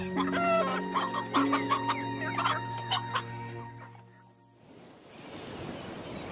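Several chickens cluck and chatter up close in a steady, busy stream, with a low hum underneath, before fading into a soft rushing hiss.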